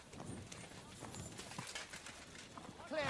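Horse hooves clip-clop at an easy walking pace in Kingdom Come: Deliverance 2, a soft steady rhythm of light hoof beats in the background.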